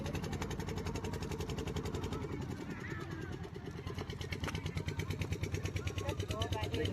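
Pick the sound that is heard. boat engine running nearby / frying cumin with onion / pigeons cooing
boat engine running nearby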